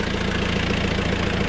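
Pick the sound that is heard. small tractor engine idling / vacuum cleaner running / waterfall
small tractor engine idling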